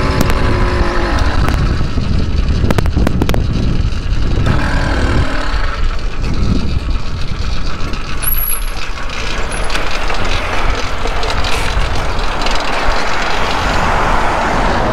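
A motorized bicycle's small engine runs continuously, a loud rough buzzing drone with scattered sharp clatter, heard alone.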